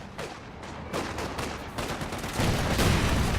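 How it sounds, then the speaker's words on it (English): Battle fire in a real-time strategy game, with Raketenwerfer rocket launcher shots among repeated sharp gunfire bursts and impacts that build to a denser, louder barrage near the end. "Another Rakettenwerfer shot just whiffs, hits the ground twice."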